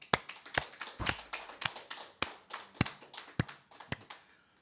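Church congregation at a Korean Sunday worship service claps in a steady rhythmic beat, sharp distinct claps roughly every half second, moderately close and fading at the end.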